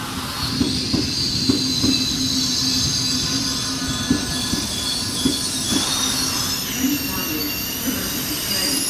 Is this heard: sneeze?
no